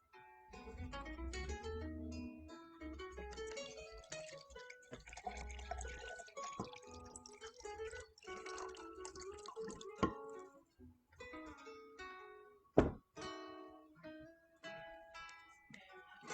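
Filtered water poured into a mason jar for a morning lemon drink, a steady trickling, splashing flow that rises in pitch as the jar fills, followed by a few clinks and drips; fairly quiet and close.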